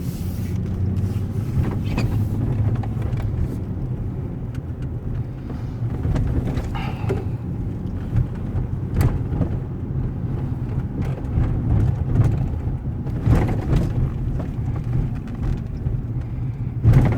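A car drives along Mason Drive in Fort Dodge, Iowa, giving a steady engine and road rumble with wind buffeting the microphone and occasional bumps, no talking.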